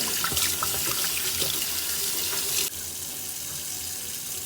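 Canned black beans rinsed under a running kitchen tap, a steady broadband rush of water that drops slightly in level partway through and continues alone.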